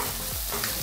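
Chicken with masala and a stock cube is stirred in a frying pan under a dense, close sizzle, with one brief scraping stroke.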